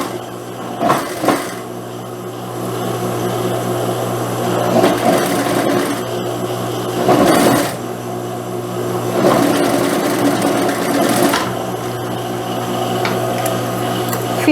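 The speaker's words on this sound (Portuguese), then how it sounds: "Vou passar um pespontozinho aqui com a largura do pé da máquina" A sewing machine topstitches fabric at presser-foot width, running in a steady, loud, continuous mechanical hum with a rhythmic needle patter and slight swells in intensity throughout.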